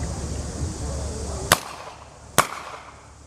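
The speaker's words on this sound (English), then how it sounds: "That's just a light load of a blank" Weapon firing light blank rounds outdoors: two sharp, loud cracks about a second apart over a faint background hum and distant chatter.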